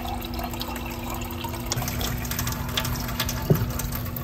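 Filtered water pours steadily for coffee in an apartment kitchen, a continuous close splashing stream with a small clatter near the end.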